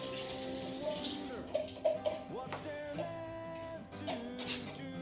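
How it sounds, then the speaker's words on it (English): An AeroPress coffee maker rinsed quickly under a running kitchen tap, with water splashing and gurgling against the plastic in short bursts, plus a few clinks and knocks, close by and moderately loud. "Quick rinse."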